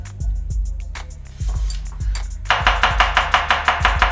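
A knife chops an onion on a board, steady close thuds with a crisp cutting crunch, speeding into a rapid even rhythm toward the end, with no talking.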